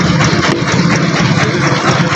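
The engine of a small wooden ferry boat runs loud and close, a steady rumbling idle with a constant vibrating throb and no talk.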